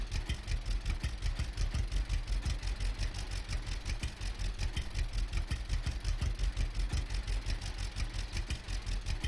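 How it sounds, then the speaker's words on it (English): A Jack Bear tractor in the Farmer's Dynasty video game runs with a steady, throbbing diesel idle, pulsing evenly and close, with no talk over it. "Drive your new Jack Bear tractor"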